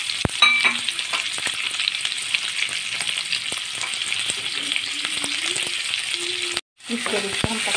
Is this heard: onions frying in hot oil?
yes